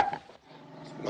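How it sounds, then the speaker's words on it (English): A dog gives a brief, low growl in a Western film scene, faint and rough, lasting about a second with no talk. "What are you doing with that dog?"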